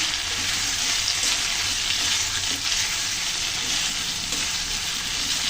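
Ground peanut and cashew paste frying in a pan gives off a steady, even sizzle that runs without a break, close and fairly loud, with no voices.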